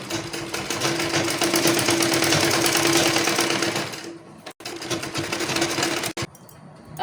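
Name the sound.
sewing machine stitching blouse back neck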